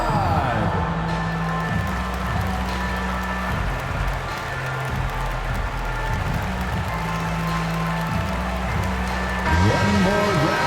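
Arena crowd in NBA 2K22 cheering and applauding loudly and continuously, a steady roar of claps and whoops filling the whole stretch while an announcer talks over it.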